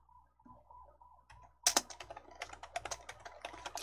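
Computer keyboard keys are pressed after a quiet stretch with a low hum, then a sharp first click followed by a rapid run of close clicks and taps.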